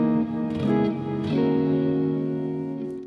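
An Earthquaker Devices Afterneath reverb pedal smears a played guitar note into a thick, dense wash of echoes that blur together, sustaining loudly and evenly with no talking.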